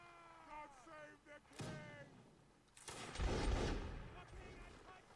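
A Napoleonic Wars line battle in which a musket volley crashes in as a rolling, crackling burst, following earlier voices and thin tonal sounds. The volley sounds moderately distant and builds into a sustained rumble.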